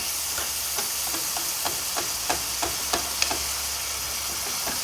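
A Top Ramen noodle casserole cooks in a high-sided pan with a loud, constant sizzling hiss and steady crackling pops spread throughout. The sound is close up and nobody speaks.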